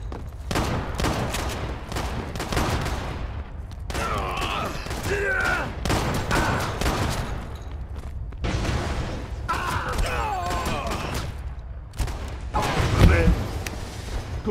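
Video game gunfire crackles in bursts of fusillade and machine-gun-like shots, with a heavier boom near the end, running beneath nearly continuous excited talking and cheering.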